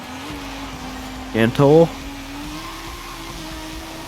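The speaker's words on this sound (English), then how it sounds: "Burning the tires off in a straight line." Racing video game car drones steadily at a constant pitch all the way through, its engine note barely changing, while a man's brief spoken word breaks in around the middle.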